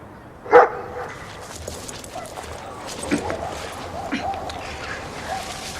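A dog gives one sharp bark near the start, over a steady background with faint movement and a few softer sounds afterward, in a scene where people argue about a dog fouling under a window.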